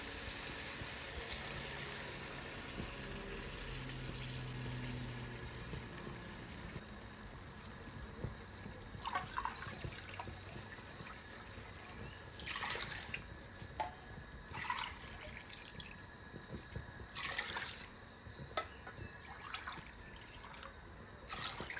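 Water and chicken yakhni stock being poured into a pot of rice for chicken pulao, a quiet trickle broken by a few brief splashy gushes.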